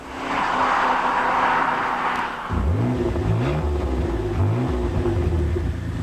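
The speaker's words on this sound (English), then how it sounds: "the 5-litre Mustang has a loud sound that the customer actually wants to hear" A Ford Mustang GT's 5-litre V8 exhaust sounds loud and close, first as a steady roar, then revving and shifting in rising and falling pulls, with no talk over it.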